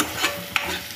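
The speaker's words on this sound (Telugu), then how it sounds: "మంచిగా కలుపుకోవాలి దోస్తు" Pasta being stirred in a home pan, a brief scraping stir with a couple of soft clinks, close by and alone with no voices.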